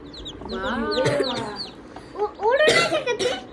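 Newly hatched chicks peep in high, repeated chirps near a hen, close and clear, while people talk over them.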